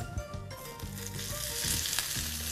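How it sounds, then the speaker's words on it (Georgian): Steady, crackling sizzle of skewers on a hot grill, close and continuous throughout. "შეგვიძლია უკვე დავიწყოთ გრილზე შეწვა. სოუსი მზად არის, გრილი ცხელია"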